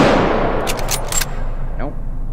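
Gunfire in the VR shooter game H3VR: a quick cluster of sharp shots, loud and close, followed by a metallic ring fading out.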